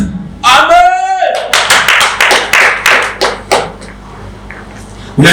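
Hands clapping during a church service: a brief voice, then a quick, irregular run of about a dozen sharp, close claps that stops and leaves near silence.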